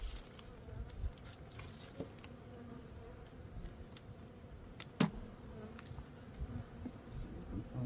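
Honeybees hum around an open hive while frames are inspected at an apiary, a soft, steady buzz with a few faint clicks and taps close by.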